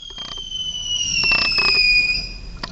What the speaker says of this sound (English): You can hear it right outside the fireworks.